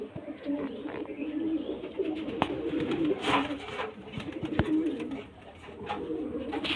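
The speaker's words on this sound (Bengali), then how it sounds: "এই এক পেয়ার মাদা পায়রা দেখুন" A pair of female pigeons coo softly in low, repeated murmuring calls close by, with occasional faint clicks and rustles around them and no talking.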